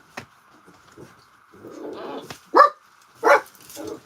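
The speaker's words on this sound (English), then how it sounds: "That's my dog. Excuse him." A dog barks a few times nearby, sharp separate barks spaced out over a few seconds, with a faint steady hum and soft background noise between them.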